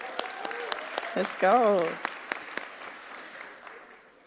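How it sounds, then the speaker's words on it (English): Scattered clapping from a commencement audience, with sharp individual claps under a short spoken exclamation, thinning out and fading toward the end. "Let's give them one more round of applause."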